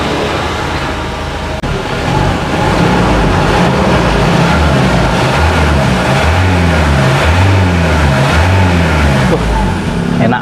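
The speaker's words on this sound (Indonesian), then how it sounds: "Coba ya, saya nyalakan mesinnya." A 2012 Ford Ranger engine cranks and catches, then settles into a close, loud, throbbing rumble that keeps running steadily for the rest of the clip.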